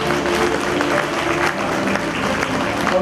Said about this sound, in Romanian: Să-l aplaudăm, să-l felicităm